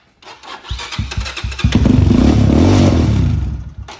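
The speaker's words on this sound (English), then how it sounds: "So when we do get it started, it's probably going to start and it'll probably rev a few times and then it'll peter out and stall" A stored motorcycle engine cranks in a few short bursts, catches and revs loudly for a couple of seconds, then fades and stalls into quiet.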